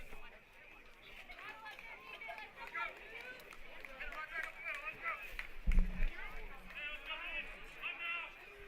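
A baseball crowd at Bartram Trail murmurs through a quiet mound visit, a soft continuous chatter of many voices with a brief thump partway through.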